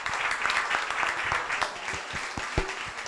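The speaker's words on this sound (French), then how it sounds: "un petit applaudissement pour Dr Dorazio et Dr Kitoni" Applause at a science café for two doctors after a talk on the heart in 3D: a moderate audience clapping, fairly soft and steady, with a few sharper nearby claps standing out.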